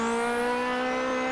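A Zakspeed Capri Group 5 race car in Assetto Corsa accelerates in third gear past 110 mph, its engine a loud, steady, rising whine with no talk.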